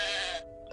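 A single sheep bleats loudly and close for about half a second, then cuts off into near silence.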